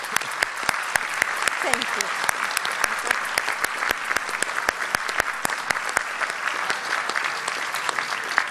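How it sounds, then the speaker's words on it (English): A conference crowd at an Act for America event claps loudly and continuously for a woman, with sharp individual claps standing out in the steady applause; a voice briefly says thanks partway through. "she deserves an applause."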